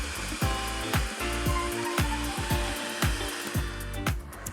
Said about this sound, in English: I've got a hand mixer here. It makes life a lot easier. And we're going to whisk this until it's light and fluffy.